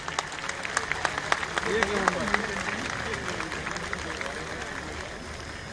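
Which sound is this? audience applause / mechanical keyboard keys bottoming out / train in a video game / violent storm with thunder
audience applause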